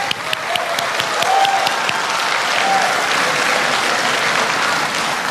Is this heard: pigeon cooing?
no